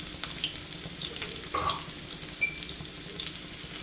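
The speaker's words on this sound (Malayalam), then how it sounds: "2-3 ചെറിയ ഉള്ളി അരിഞ്ഞത്, 2 വറ്റൽമുളക്, കറിവേപ്പില, ഇതെല്ലാം നമുക്ക് ഇട്ടിട്ടൊന്ന് മൂപ്പിച്ചെടുക്കാം." Chopped shallots, dried red chillies and curry leaves frying in oil for a Kerala-style mango curry, a soft, low sizzle with a brief louder burst near the middle, heard alone without talk.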